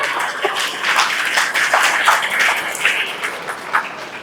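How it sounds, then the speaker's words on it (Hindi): Audience in a hall applauding, a dense, fairly close patter of many hands clapping steadily with a few sharper claps standing out. "ताली कौन बजा रहा है?"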